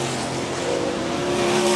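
A 360 sprint car, the Carpetland 53, races past on the Park Jefferson Speedway dirt oval in a brief, loud burst of engine drone that rises in pitch and swells as it nears.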